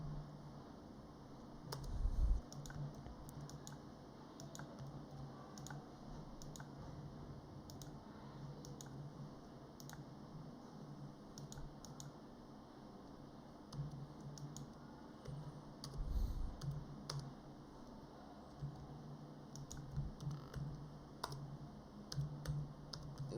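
Quiet keyboard typing while entering a chart title into a spreadsheet formula bar, with sparse, soft clicks spread across a low steady hum and a few louder taps.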